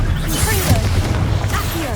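An Incendio fire spell cast in Hogwarts Legacy, erupting in a loud booming burst with crackling flame and rumbling blasts amid ongoing combat, with a voice speaking over the effects.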